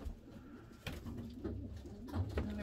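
Pigeons or doves coo from an aviary beside a plastic-sheeted shed, soft repeated low coos, fairly close and quiet, with no talking.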